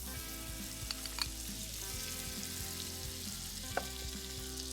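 Masala butter sizzling in a big skillet over medium heat, a steady, quiet frying hiss with a few faint crackles and pops, no voices.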